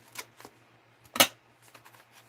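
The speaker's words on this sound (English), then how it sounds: "Maybe I need to cut a slit in here." Scissors snipping a slit into a mixed-media art project, a few short crisp cuts with one louder snip in the middle, close and quiet with no talking.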